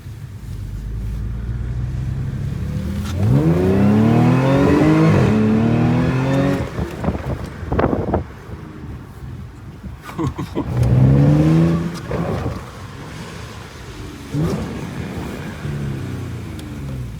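A B8.5 Audi S4 with AWE non-resonated downpipes revs twice in loud rising sweeps, each dropping back to a deep rumbling idle, heard close with brief voices mixed in between.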